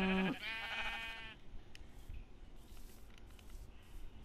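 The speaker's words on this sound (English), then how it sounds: "Okay, this sheep's gonna be stubborn." A sheep in the video game Minecraft gives one loud, wavering bleat right at the start. It is followed by quiet game ambience and faint scattered sounds.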